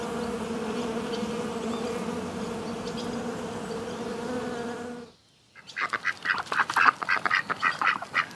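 A single honeybee buzzing steadily and up close for about five seconds, then a short silence before a different, broken animal call follows.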